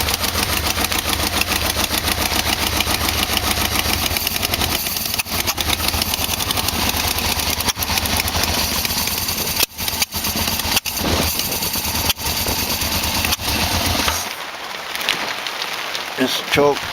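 A Yamaha Vmax motorcycle idles roughly and loudly in the rain, with leaking exhaust that has only one bolt fitted, before the engine cuts out near the end, leaving rain patter.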